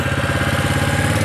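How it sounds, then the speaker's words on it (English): A running lawn mower engine with its revs raised slightly hums close and loud, a steady throbbing drone with a fast, even pulse and no talking over it. "But we'll put the revs up just a tad."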